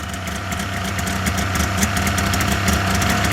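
A Polaris Indy XLT 600 triple-cylinder snowmobile engine runs steadily after being pull-started, a loud, close, buzzing idle with constant vibration and no talking.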